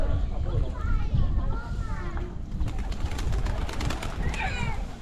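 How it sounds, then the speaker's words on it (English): Pigeons coo softly in the background of an outdoor scene at Fortaleza do Monte park in Macau, mixed with nearby voices and children's chatter. "Got some pigeons out here."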